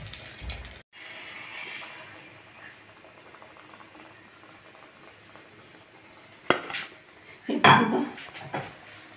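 Malpua pitha, a sweet Bengali fried pancake, sizzles faintly in hot oil with a low steady bubbling, then louder crackles and a burst of sputtering near the end as a batch is turned.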